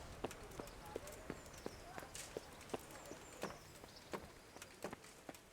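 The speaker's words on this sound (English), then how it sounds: "Those are some nice horses." Horses' hooves clip-clop in the medieval video game Kingdom Come: Deliverance, with a steady run of crisp, fairly faint hoof strikes at a walking pace.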